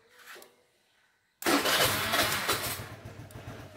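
A Suzuki Address scooter running on a LiFePO4 battery starts after a short quiet pause, catching abruptly and settling into a close, steady, throbbing idle.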